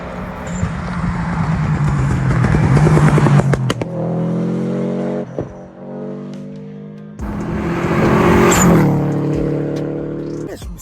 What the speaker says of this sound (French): Genre la voiture elle passe, elle fait vibrer ton corps carrément.